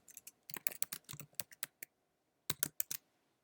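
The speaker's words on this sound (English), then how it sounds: "I just type that in there" Keys clatter on a computer keyboard as an announcement is typed into Google Classroom, a quick burst of close, crisp keystrokes, a short pause, then another brief flurry, with no talking.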